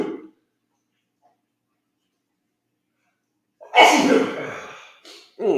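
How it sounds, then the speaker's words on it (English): A man gives a single loud, sharp sneeze after a few seconds of near silence, preceded by a brief indrawn breath and followed by a short exhale. "I'm gonna sneeze."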